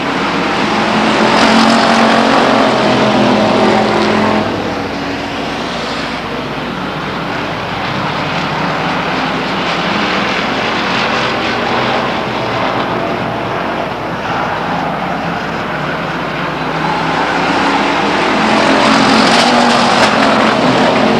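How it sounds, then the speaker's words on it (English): Race cars roar around the track at Stockton 99 Speedway, a loud continuous engine din swelling and fading as cars pass, with crowd and ambient noise underneath and no talk. "Ray Davis runs up there, takes the air off the spoiler of the 92 car, gets him a little sideways"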